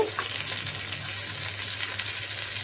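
Ridge gourd fritters fry in hot oil with a dense, continuous crackling sizzle, steady and fairly loud, with no talking.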